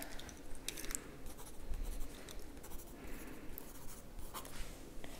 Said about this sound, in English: I'm just gonna write it down.